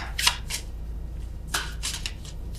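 Tarot cards are shuffled by hand in a few quick riffling bursts, crisp and close against a quiet room.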